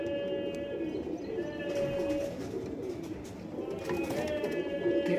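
Pigeons at a breeding farm give soft, repeated low coos against steady background noise, while someone talks nearby throughout.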